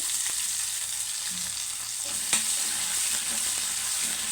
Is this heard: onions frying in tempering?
yes